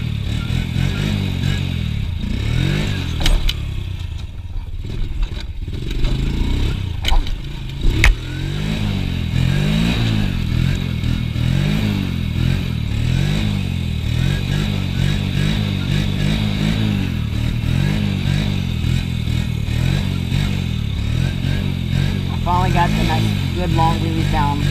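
An ATV engine revs and idles while warming up, a steady close mechanical drone with rising and falling throttle swells running throughout, with people talking over it at times.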